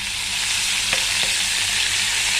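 Browned meat frying in a hot pan as vinegar is poured in, a loud, dense, continuous sizzle and hiss up close with a couple of faint clinks.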